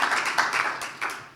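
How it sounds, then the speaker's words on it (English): Audience applause at a presentation event, a short burst of clapping at moderate distance with a few sharper claps standing out, no talk over it. "Then another round of applause and greetings from Reading."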